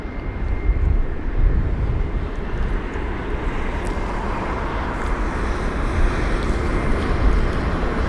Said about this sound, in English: The A319 on the ground now as well.